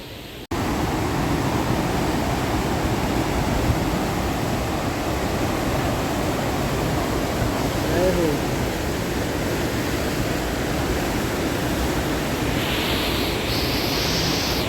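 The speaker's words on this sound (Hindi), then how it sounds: "तो ये है धुआंधार वाटरफॉल।" Dhuandhar waterfall on the Narmada river at Bhedaghat, heard as a steady, loud roar of rushing water that fills the scene without a break, with wind buffeting the microphone.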